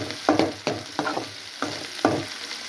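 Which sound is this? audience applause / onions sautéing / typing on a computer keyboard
onions sautéing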